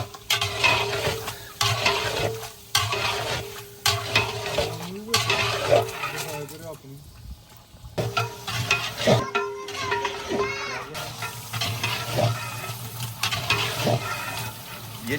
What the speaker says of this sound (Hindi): इसको भूनना है अच्छे तरीके से